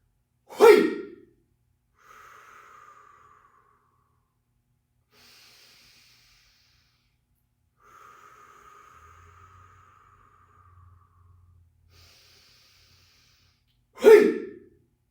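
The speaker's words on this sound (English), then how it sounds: "Exhale. Breathe in, breathe out." Strong qigong breathing during a strength-training routine: a sharp, forceful exhale bursts out at the start and again at the end, with softer, airy breaths in and out between them and no talking.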